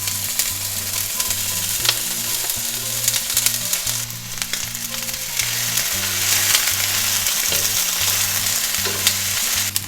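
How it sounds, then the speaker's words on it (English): Sliced onion frying in oil with browned bay leaves, an intense crackling sizzle that goes on steadily under faint background music. "Now you can add sliced onion."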